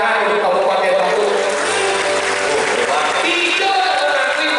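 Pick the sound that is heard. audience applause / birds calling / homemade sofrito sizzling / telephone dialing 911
audience applause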